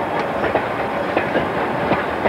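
A six-wheeled 3F steam locomotive hauls a train along a local line through Nottinghamshire's coal fields, its wagons giving a steady clickety-clack of wheels over rail joints, moderately loud and close, with no voices.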